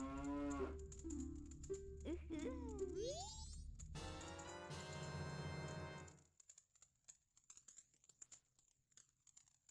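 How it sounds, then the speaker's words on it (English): A cartoonish cow in The Legend of Zelda: Majora's Mask lets out loud, warbling synthesized moos with swooping pitch, followed by scattered crunchy clicks and game sounds as the moos stop. "Why did the cow make that noise?"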